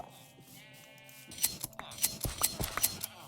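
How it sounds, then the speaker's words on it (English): Sheep bleating in a video game scene, followed by a quick series of snipping, clicking shearing sounds close by as the sheep are sheared. "We gotta shear these sheep."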